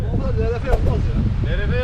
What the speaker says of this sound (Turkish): Oo, çok rüzgar var çok.